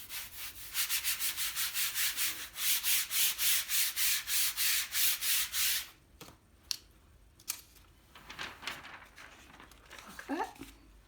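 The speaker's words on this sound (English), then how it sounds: "I might just use the brayer and take a simple print." A rubber brayer rolls back and forth over an inked mono-print plate in rapid, even rasping strokes, close and fairly loud, then stops, leaving a few light taps and paper handling sounds.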